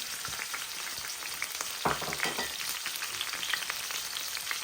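Onions with ginger and garlic fry in a pan for a lamb keema curry, a steady close crackling sizzle with a brief louder stir or clatter near the middle and no talk.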